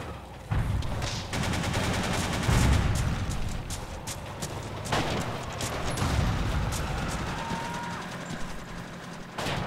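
Gunfire in the WWII shooter game Forgotten Hope 2 during the Battle for Sfakia: dense, continuous volleys of rifle and machine-gun shots with distant booms, loud and steady throughout the whole stretch.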